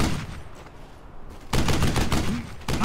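Rapid bursts of gunfire rattle through a Brothers in Arms: Hell's Highway battle, loud close volleys broken by a short lull, dominating the clip.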